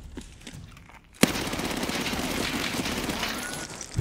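Sustained automatic gunfire from an Escape from Tarkov match, a sharp opening crack followed by a loud, continuous burst of rapid shots that runs for several seconds.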